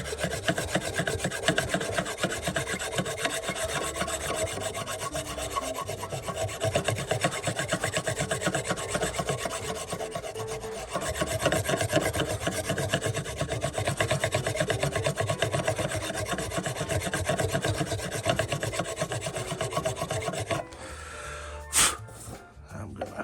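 A file is rasped rhythmically back and forth along a spiral-cut wooden pen blank, tapering it toward the hilt. The close, loud strokes continue for about twenty seconds, then give way to brief handling noises.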